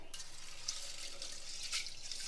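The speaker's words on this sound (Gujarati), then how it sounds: "તો હવે આપણે આ મગને પ્રેશર કુકરની અંદર રાખી 2 થી 3 વાર સરસ રીતે ધોઈ લેવાના છે" Mung beans being washed in water inside a pressure cooker, with a steady faint swishing and splashing of water and small splashes, close and continuous, without speech.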